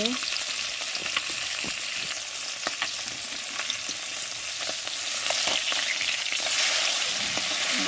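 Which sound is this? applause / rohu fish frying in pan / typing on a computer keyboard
rohu fish frying in pan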